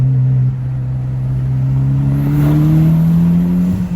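A 2010 Mitsubishi Lancer Evolution GSR four-cylinder engine revs steadily, its droning note slowly climbing in pitch, loud and close with no talking.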